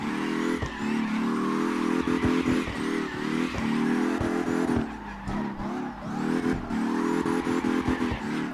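A BMW M2 built for drifting in the CarX drift racing game runs hard and close throughout, its engine note steady and loud with repeated short revs, dips and bursts suggesting tire squeal, with no talking.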